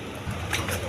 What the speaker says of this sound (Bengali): দশমী এখানে দুটো বোম্বাই নর কবুতর আছে